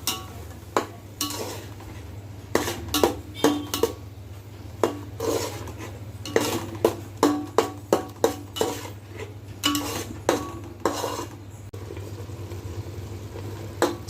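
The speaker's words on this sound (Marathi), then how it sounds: "ह्यामध्येच चार टोमॅटो त्याची पिवरी घातलेली आहे ती देखील आपल्याला छान अशी परतून घ्यायची आहे" A spoon scrapes and knocks against a pan while tomato puree masala is sautéed, making repeated rhythmic clanks and scrapes, close and fairly loud, with a low steady hum underneath and no talking.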